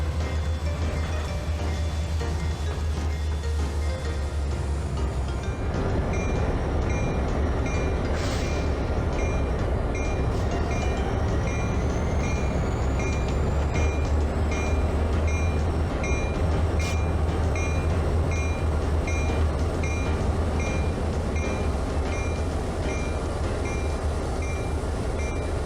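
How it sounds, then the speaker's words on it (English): A train ride at Barstow in cabs, cabooses and passenger cars, with a steady rolling rumble of rail wheels and car noise throughout, occasional metallic squeals and a faint high beeping tone. "Andy, Andrew, Gary, and Mackay gave rides in cabs, cabooses, and passenger cars to the visiting people"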